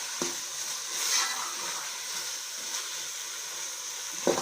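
Vegetables with capsicum and vinegar fry in a pan, giving a steady, close hiss and sizzle with a couple of faint stirring knocks and no talking.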